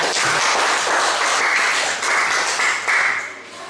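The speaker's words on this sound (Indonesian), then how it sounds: "tepuk tangan untuk ini, Ica" A fifth-grade class applauds a student, dense close clapping from many small hands that holds steady for several seconds and then tapers slightly.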